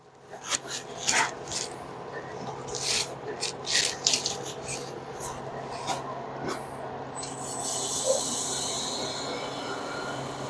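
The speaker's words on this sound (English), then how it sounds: "Lathe speed is set to about 1600 RPM" A wood lathe spinning at about 1600 RPM while a skew chisel shapes a wooden tool handle, producing a steady whirring hum with bursts of high scraping and squealing cuts, close and alone.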